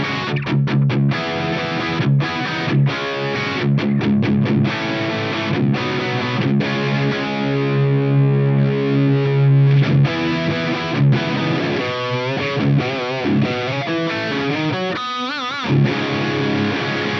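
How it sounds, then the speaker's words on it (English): Electric guitar played through a BOSS OD-200 drive pedal in brown mode with low drive and flat EQ, giving a crunchy, mildly overdriven tone; loud strummed chords and picked riffs with sustained ringing passages, played alone. "I have it on the brown mode"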